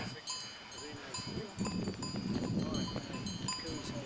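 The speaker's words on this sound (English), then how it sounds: "Hear the cowbells?" Metallic cowbells on grazing cows clank irregularly at a moderate distance on a Swiss hiking trail, with people talking in the background throughout.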